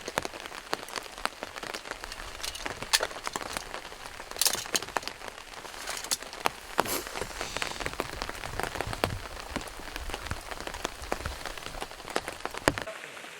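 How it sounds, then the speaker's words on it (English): Rain falling at a bushcraft camp with a tipi smokehouse, a soft continuous patter of drops on surfaces with scattered sharper taps, fairly quiet and steady from start to end. "here's the rain."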